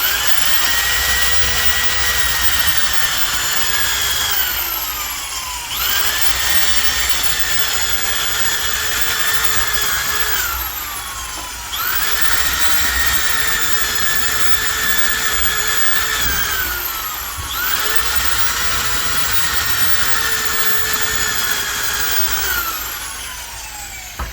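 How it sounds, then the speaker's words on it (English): A power drill bores holes into a wooden branch being made into a bird feeder, running continuously up close and loud, with the motor pitch sagging under load and rising again in several repeated cycles. "drill a really big hole in there, and then we're going to take this and put little holes in there."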